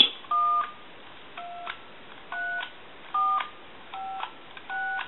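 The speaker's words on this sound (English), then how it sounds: "I'm going to go ahead and dial some numbers" Numbers are dialed on a GTE Starlite Florida Gators telephone plugged into an analyzer, producing six distinct touch-tone beeps at fairly even intervals, each short and clear with quiet gaps between.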